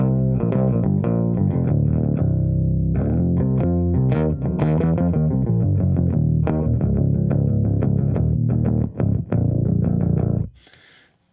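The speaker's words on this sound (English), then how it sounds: "the SLATE bass plugin with a pitch shifter in it that's set like an octaver" A Hofner Beatle bass played through a SLATE bass plugin with a pitch shifter set as an octaver, a thick, deep, sustained melodic line of notes with a fat doubled low end, close and loud, cutting off abruptly near the end.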